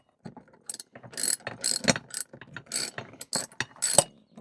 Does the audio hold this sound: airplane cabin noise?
no